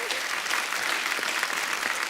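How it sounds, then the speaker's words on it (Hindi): Loud studio audience applause on a Hindi comedy talk show, dense steady clapping filling the whole stretch with a faint voice underneath. "एक बार रणबीर कपूर के लिए जोरदार तालियां हो जाए"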